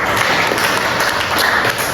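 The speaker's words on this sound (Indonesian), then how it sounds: "Berikan dulu tepuk tangan" Audience applause at a Christian religious teaching session, a dense, continuous burst of many hands clapping close by for a couple of seconds without talk.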